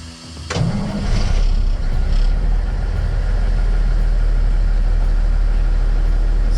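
A 1990 9370 tri-axle dump truck's diesel engine cranks briefly and fires, then settles into a loud, steady, close-up idle rumble.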